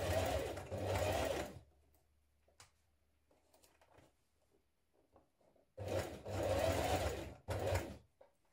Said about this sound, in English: we're going to stitch that in place now.